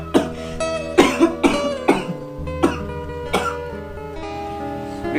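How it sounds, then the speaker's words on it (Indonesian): A sick person coughs repeatedly, about six harsh, rough bursts spaced out over several seconds, close and clear with no talking. "Geus sabaraha minggu ieu batuk,"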